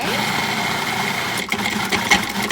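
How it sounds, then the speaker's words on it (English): A food processor whirring as it purees roasted tomatoes with green peppers and onions, a steady close motor drone with a few bumps and clatters toward the end. "into the food processor. Puree."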